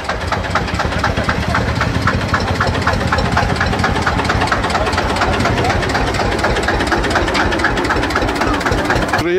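A historic 1954 Deutz FNS 1114 tractor engine runs loud and close, a steady, even diesel chugging with a knocking rhythm that holds throughout, with no pauses.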